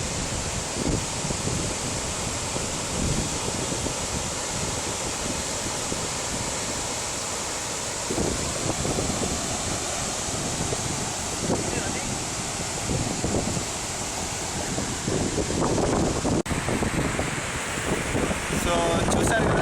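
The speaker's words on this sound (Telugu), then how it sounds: "సో చూసారు కదా, వాటర్ ఫాల్స్ ఇస్ అమేజింగ్" Kuntala waterfall roars in a constant, dense rush of falling water close by, with wind buffeting the microphone throughout.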